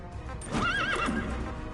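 D-Horse in the video game Metal Gear Solid V gives a single clear whinny, loud and close, with faint hoof clops around it.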